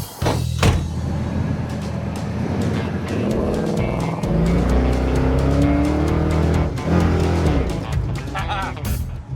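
Classic Ford car fitted with a new 2013 Ford 5.0 engine driving off hard, loud rumbling engine revs with tire squeal, passing close, while people talk over it.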